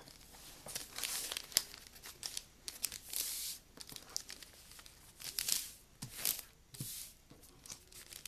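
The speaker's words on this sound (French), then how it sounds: "Pour faire un papier plus épais, je plie mon papier comme ça." A sheet of paper is folded over and over to build thickness for paper beads, giving close, continuous crinkling and crackling with sharper rustles throughout.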